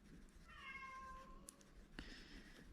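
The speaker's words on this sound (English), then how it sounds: "Oh, my cat is annoyed, I guess." A house cat lets out a single drawn-out meow, faint and close in a quiet room, followed by a brief clatter.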